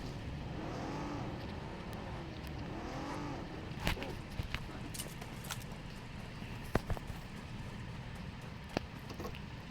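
Vehicle engine rumbling steadily while driving in a battle royale video game, a continuous mid-level drone with a few sharp clicks and impacts scattered over it, no talk.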